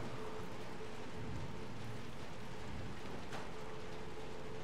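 Steady rain falls in Little Nightmares 2, a dense, even hiss of drops on surfaces that continues without break and with no talking.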